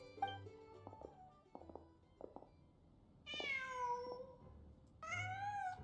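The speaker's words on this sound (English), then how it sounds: "Just a cat." A cat in Genshin Impact gives a few soft, short meows, then two longer, louder drawn-out mews, set apart against a quiet game background.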